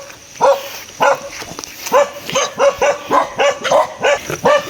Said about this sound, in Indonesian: semuanya menggonggong